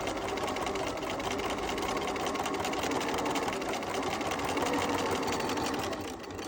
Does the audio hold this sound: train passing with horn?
no